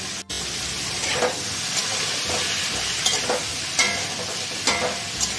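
Mixed vegetables for Bengali shukto fry in a pan with a loud, continuous sizzle, punctuated by rhythmic scrapes and knocks of a spatula stirring every second or so, close and without speech.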